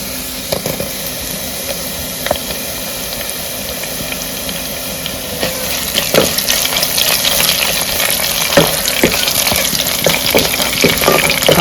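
Crushed small onions hit hot oil in the tempering for Andhra pappu charu, a continuous frying hiss that grows louder and busier midway, with scattered stirring clatters.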